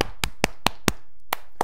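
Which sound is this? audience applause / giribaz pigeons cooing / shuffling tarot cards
audience applause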